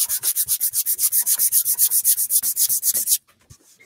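Wood being sanded by hand for a patriotic door hanger, a close, steady run of quick rhythmic rubbing strokes that stops abruptly near the end, leaving quiet.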